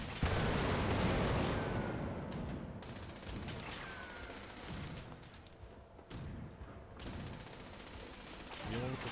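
Heavy gun fire in the video game Fallout 76: dense, continuous bursts of automatic shots and booming impacts roll on without pause, loud and close, with occasional faint voice-like sounds mixed in.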